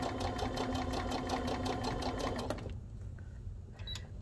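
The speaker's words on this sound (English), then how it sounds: "I'm going to sew with my guide right there" A modern zig-zag sewing machine with an open-toe foot stitches alongside a stitch guide, running in a steady rapid mechanical rhythm up close for about two and a half seconds before stopping, leaving a quiet room with a faint click.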